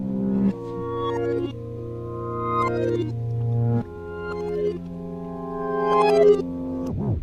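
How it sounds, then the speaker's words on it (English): Reversed harp notes swell up from silence and cut off abruptly, a few swelling phrases repeating in a slow, wavering rhythm. "and then, of course, a harp played backwards"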